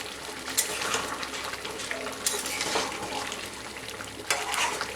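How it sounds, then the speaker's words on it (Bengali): Echorer dal, a thick jackfruit and lentil dish, is stirred and mixed in a pan with a soft sizzle and wet scraping, with a few sharper clinks of the spoon. "এবার মিশিয়ে নেব।"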